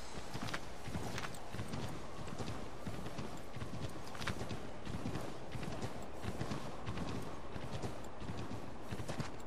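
Horse hooves from Assassin's Creed 3 clip-clop steadily in a fast, dense rhythm under a busy in-game soundscape, fairly faint and continuous throughout.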